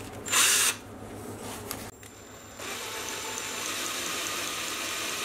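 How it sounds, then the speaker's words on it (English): A cordless drill, fitted with a chuck key as a mini lathe power feed, whirs in a short burst, stops, then runs at a steady, continuous whine, close and moderately loud. "the power feed is just a recycled chuck key that I've put in a cordless drill"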